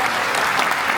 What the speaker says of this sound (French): merci d'applaudir très fort Emmanuel Vézolec, Pierre Mailleux et David Guérin pour cette spéciale